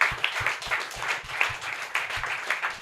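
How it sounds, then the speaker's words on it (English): A comedy roast audience claps and applauds at a live show in New York, a moderate, steady patter of many hands without cheering. "Everyone give Scott a hand"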